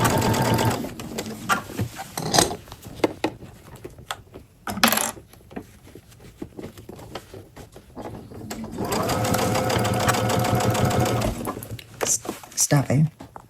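A sewing machine stitching a fabric band around the top of a bag, loud rapid whirring bursts in short runs and one long steady run, with someone talking between them.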